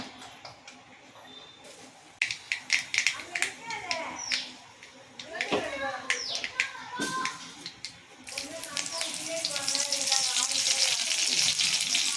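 Hot oil crackles and sizzles as spices hit the pan, with clattering utensil sounds and a growing steady hiss toward the end.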